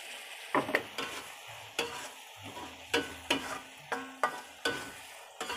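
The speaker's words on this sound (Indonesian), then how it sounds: "Aduk rata hingga daun bawangnya layu" Sliced spring onions are stirred into tomato sambal frying for Madura-style sambal goreng tomat: soft, steady sizzling under a rhythm of repeated scraping spatula strokes, close and fairly quiet.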